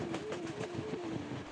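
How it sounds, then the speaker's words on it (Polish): Passenger train rolling on rails through Romania, a steady close rumble of wheels with rhythmic clatter at even intervals and a faint tonal hum, with no voices. "W końcu, po dłuższym oczekiwaniu na pociąg, ruszamy."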